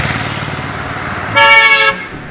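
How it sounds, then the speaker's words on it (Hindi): A car horn blasts once for about half a second over a steady rumble of road traffic on a busy street in Solan; the honk is loud and close, with no talking. "बहुत ज़्यादा शोर भी है यहाँ गाड़ियों का।"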